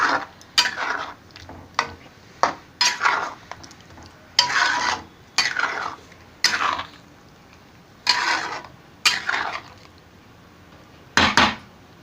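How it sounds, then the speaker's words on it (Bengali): Potatoes tipped and scraped into a cooking pan in a home kitchen, coming as a series of about a dozen sharp clattering, rasping bursts with short pauses between them, close and fairly loud. "এবার আলুগুলো সব ঢেলে নেব"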